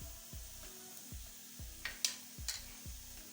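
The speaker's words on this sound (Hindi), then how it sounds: "प्याज तकरीबन फ्राई हो चुके हैं।" Onions nearly done frying in a pan, a soft sizzle running under a rhythmic series of low knocks, with a few sharp clinks of a utensil against the pan, fairly quiet and with no voice.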